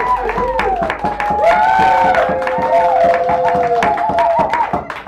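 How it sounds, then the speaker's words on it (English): Audience applause with some cheering at a San Francisco cafe poetry reading, greeting a first-time poet; steady, fairly loud clapping with tonal voices and whoops riding over it throughout. "Give him a big round of applause."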